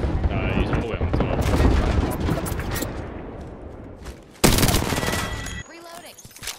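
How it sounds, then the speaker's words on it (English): Dense, loud automatic gunfire in Apex Legends, sustained bursts that pause briefly and then resume in a sharp volley, with a voice talking over parts of the shooting. "They're shooting people over here."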